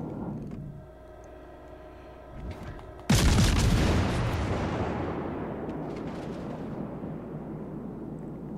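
A naval gun salvo in a warship video game lands as a sudden heavy boom with a long rumbling decay, following a quieter stretch of engine hum and smaller distant thuds.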